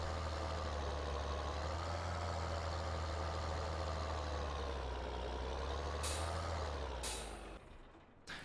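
A tipper truck idling in Farming Simulator 2013, a steady low engine drone with a high whine above it, then sharp hissing air-brake bursts near the end as the engine cuts down.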